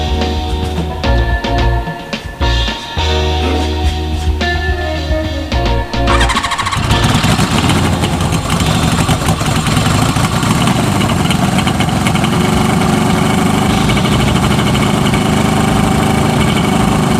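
A motorcycle with a freshly rebuilt carburetor and replaced petcock starts after a brief cranking stutter, then settles into a steady, loud, close idle that runs on without pause.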